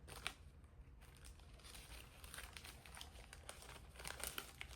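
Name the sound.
tissue paper crinkling while unboxing Hermès card holder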